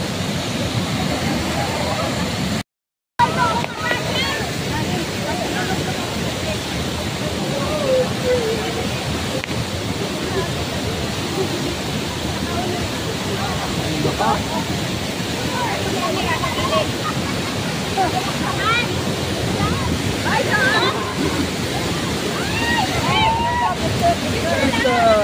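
Continuous rushing roar of the waterfall at Taytay Falls, a broad steady wash of water close by that fills the scene, with faint voices now and then beneath it.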